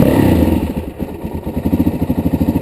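A Suzuki DRZ dirt bike with jetting and the 3x3 mod fires up from cold, settling into a loud, close, lumpy idle with a quick pulsing beat.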